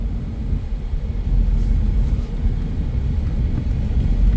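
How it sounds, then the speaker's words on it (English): A 2020 Ford EcoSport with a 2 L four-cylinder engine drives on a test drive, heard as a loud, steady low rumble of engine and road noise from inside the cabin, with no talking. "there's a quick glimpse at a little test drive of a Ford EcoSport"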